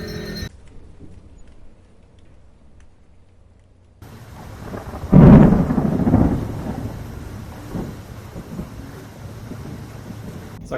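Outdoor thunderstorm with rain, a quiet wind-buffeted opening giving way to a loud close thunder crack at mid-clip that rumbles off over steady rainfall.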